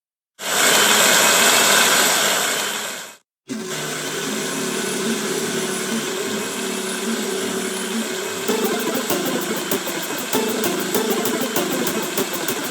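Car engine droning steadily in the driving minigame of the video game Horace, a loud continuous hum that cuts out briefly, then returns with a shifting engine tone and faint rhythmic game sounds over it.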